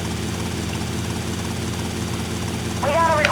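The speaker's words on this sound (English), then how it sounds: "now that we have the helicopter" A helicopter's rotor chops in a constant, loud, pulsing whir in GTA Vice City Definitive Edition on PC, with a person starting to talk over it near the end.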